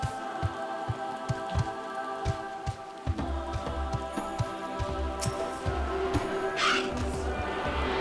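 Steady rain in a desert setting in Final Fantasy XIV, a constant pattering wash with soft repeated low thumps and a few faint tones, heard without speech.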